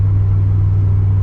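A pickup truck hauling a load of cedar firewood climbs a hill through coal country in Colorado, its engine a loud, steady low drone heard from inside the cab.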